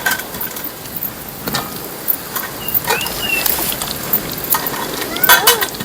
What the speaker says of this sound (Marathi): शाबू बटाटा चकली घेतलेली आहे, ते सुद्धा आपल्याला तळून घ्यायचं. बघा मस्त आहे ना, तळून वरती येतोय.